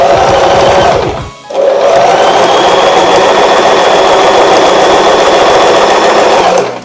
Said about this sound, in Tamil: அப்படியே ஃபுட்டர் இறக்கி விட்டுட்டு நான் மோட்டார் ரன் பண்றேன்.